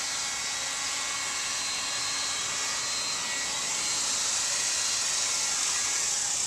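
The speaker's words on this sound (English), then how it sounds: "Got my heat gun set on high" Heat gun running on high while sealing plastic garbage bags together, a steady, loud broadband airy hiss and whoosh that holds constant throughout with no talking.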